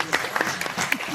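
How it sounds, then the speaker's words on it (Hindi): Audience at a mushaira and kavi sammelan poetry gathering at IIT Delhi applauding, a short burst of moderate clapping from a crowd. "जार मीडिया के एक बार आप जोरदार तालियां बजाएं।"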